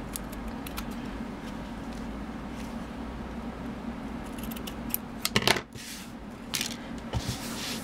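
Scissors snip off excess material from a shabby-style holiday stocking, small crisp cuts and rustling handling noises up close, with a cluster of louder snips and clatter near the end.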